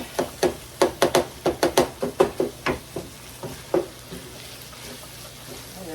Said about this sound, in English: I'll give that a mix